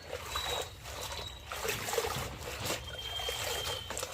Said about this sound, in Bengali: এখন আমি শাকগুলো ধুতে এসেছি বালতি করে একটু শাকটা ভিজিয়ে রাখবো